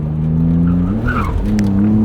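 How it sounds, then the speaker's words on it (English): The engine of a 1999 BMW M Roadster drones steadily while tires squeal in a short jump-drift slide, loud and close. "A little jump drift there."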